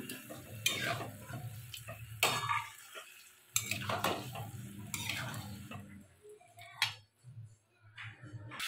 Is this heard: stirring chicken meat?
yes